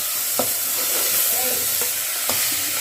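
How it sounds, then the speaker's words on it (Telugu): Drumstick pieces frying in a pan, a steady sizzle with a few sharp clinks of a spoon stirring them. "మునక్కాయలు కూడా ఫ్రై చేసుకోవాలి"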